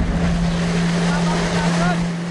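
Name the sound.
flyboard hydrojet surfing water jet in the sea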